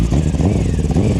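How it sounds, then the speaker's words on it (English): A passing car's engine rumbles loud and close for about a second, a steady broadband roar near a roadside. "I'm gonna wait till this car passes"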